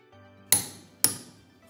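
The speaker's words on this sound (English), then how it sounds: "When the set torque is reached, the wrench typically emits a loud," A preset click-type torque wrench gives two crisp, sharp clicks about half a second apart as the set torque is reached, close and clear over a quiet background.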